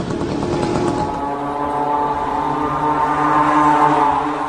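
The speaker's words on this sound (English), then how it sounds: "This is a small moped engine, or scooter engine sourced from China, at a cheap price." A small Chinese-made moped engine, as used in an Iranian drone, runs continuously nearby, a buzzing drone whose pitch shifts after the first second and then holds steady with a slight rise.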